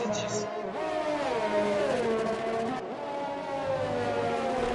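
F1 race car engines in a sim racing esports broadcast, high whining engines rising and falling in pitch through gear changes as cars run close together, with commentators talking over them.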